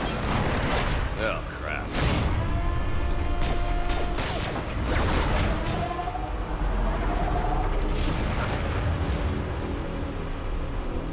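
Gunfire and explosions from the video game Borderlands: The Pre-Sequel form a dense, loud barrage of rapid bursts and booms with mechanical clatter, while a player talks briefly over the din.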